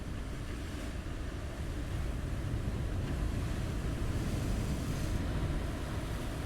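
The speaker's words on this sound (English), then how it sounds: "the ocean crashes furiously against the rocky waterline" Ocean surf crashing against a rocky waterline at the edge of a coastal plateau with tidal pools, a continuous dense roar that swells slightly, steady and wind-blown.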